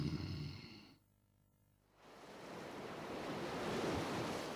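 Big breaking ocean waves on a surfing beach, a loud continuous roar of surf that dips briefly and then swells back up, with wind noise.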